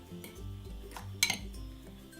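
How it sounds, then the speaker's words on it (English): A fork stirs caster sugar and ground almonds together in a cup, with soft, steady scraping and one brief sharp clink of metal against the cup partway through. "Mix them together with a fork."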